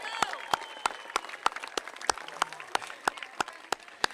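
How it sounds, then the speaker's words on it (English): Audience applause for young people at a Toronto Argonauts and Buffalo Bills partnership announcement, a steady wash of clapping with sharp, evenly spaced loud claps cutting through every third of a second or so. "Would you give the loudest round of applause to our young people?"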